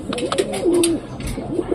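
Pigeon cooing close by, a few soft rolling coos with one longer drawn-out call in the middle, backed by faint bird chirps and light background noise.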